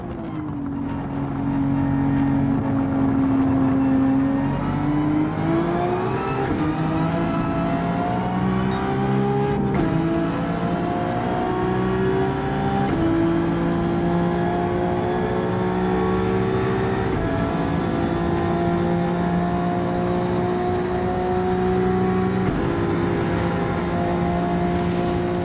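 Maserati MC20 race car from 2020 in Gran Turismo 7, its engine droning and revving steadily for about 25 seconds with rising and falling pitch sweeps as it accelerates and shifts through gears, loud and continuous with no talking.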